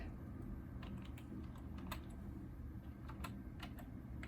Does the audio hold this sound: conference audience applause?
no